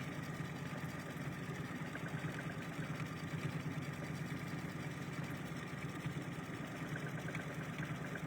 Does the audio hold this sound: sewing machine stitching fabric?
yes